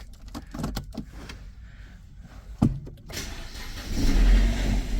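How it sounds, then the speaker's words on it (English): A BMW E87 116i hatchback is cranked, with a short whir and clunk before the engine catches and settles into a rising, steady idle close by, with no talk. "the car should start, should run normally"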